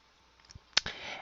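A computer mouse button gives one crisp close click, with a faint tap just before it, in a quiet room.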